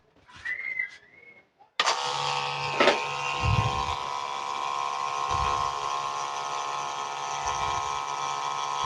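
A small 12 volt DC high-pressure pump motor starts abruptly after a faint whistle-like tone, then runs with a steady, close electric whine and hum, with a few soft thumps underneath.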